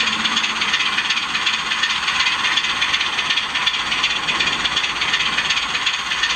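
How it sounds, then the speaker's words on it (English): A Bachmann Class 25 model locomotive with a DCC sound decoder plays a continuous steady hiss of air, like a brake release, heard alone at moderate loudness. "we should hear a brake release sound."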